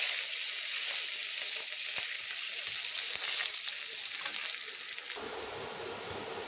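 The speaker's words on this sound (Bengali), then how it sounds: "রসুনটাকে আমি ব্রাউন কালার করে ভেজে নিব।" Whole garlic cloves fry in hot oil with dried chillies, bay leaf and cumin, giving a dense, even sizzle that holds steady close by and drops slightly near the end, with a few faint scrapes and no talking.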